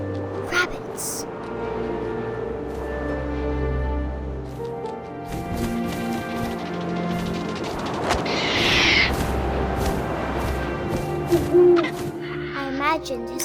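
An owl hoots in the video game What Remains of Edith Finch, deep repeated calls over a low wind-like ambience and music, with a voice narrating throughout.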